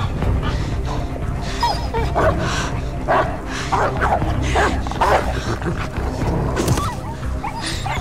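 A dog barks, yips and whimpers in the video game Beyond Two Souls, fairly loud over dense game sound effects and some voices.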